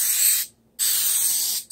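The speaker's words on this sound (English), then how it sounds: "Give it a good coat of coconut spray." Coconut cooking spray hisses onto a pan in two close bursts, a bright aerosol spray broken by a short gap, near and loud with no talk.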